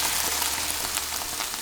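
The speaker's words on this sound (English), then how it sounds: "you see, it's sizzling" Garlic sizzles in hot olive oil in a pan, a steady, close crackling fry with fine popping and no talk over it.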